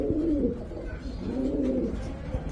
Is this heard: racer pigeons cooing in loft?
yes